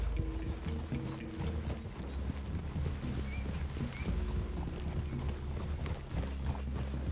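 Horse hooves clip-clopping steadily in Red Dead Redemption 2, close and continuous over a low ambient bed, with no voices.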